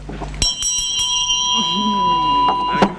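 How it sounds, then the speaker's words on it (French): A bell rings to close a meeting with a few sharp strikes, each leaving a bright sustained tone. People talk over the ringing in a room. "Je n'oublie pas la cloche, ne vous inquiétez pas."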